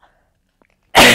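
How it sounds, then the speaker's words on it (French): A single loud, sudden sneeze bursts in after near silence, broadband and close, filling the last moment of the sound. "J'ai éternué."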